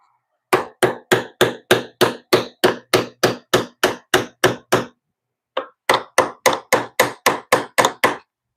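A hammer drives a pin into a wooden soap box with a run of about a dozen sharp, evenly spaced close strikes, a brief pause, then another quick series of blows.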